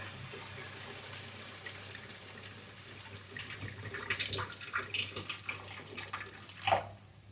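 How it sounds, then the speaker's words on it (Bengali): Water is poured into a pan while cooking a Bengali mustard fish curry with pabda fish, a faint splashing trickle building in the last few seconds over a quiet kitchen background hum. "দেখুন এরপরে জল দেওয়া হচ্ছে।"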